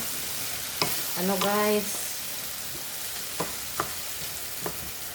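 Tuna flakes and potato fry in a pan with a steady sizzle as a spoon scrapes and stirs them, and a voice speaks briefly over the cooking.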